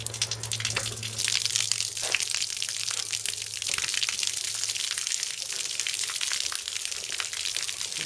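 Water gushes from a hose while a central heating system is flushed, a steady rushing, splashing flow heard close and continuous throughout.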